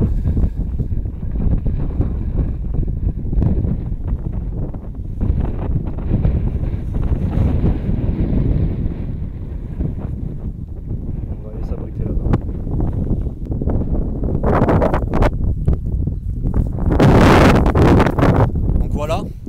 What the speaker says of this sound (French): Désolé pour le vent, il y a un petit peu de vent